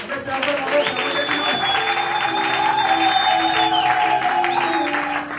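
A church congregation at a revival service breaks into sustained, loud applause that fills the hall, with voices and cheers mixed in beneath the clapping throughout.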